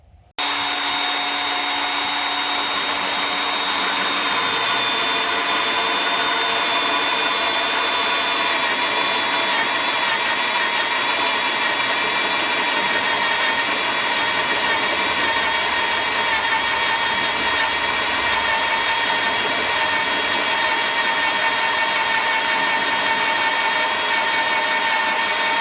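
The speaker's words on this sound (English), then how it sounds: "mark my holes, I'm going to center punch them and we'll drill them" A steady, loud high-pitched whine of a power drill drilling center-punched holes runs continuously for about twenty-five seconds, with no talking.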